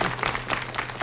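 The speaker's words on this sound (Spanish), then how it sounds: "Vamos a aplaudirle sin envidia" An audience applauds in a brief, fairly faint patter of clapping hands, steady for about a second with no voices.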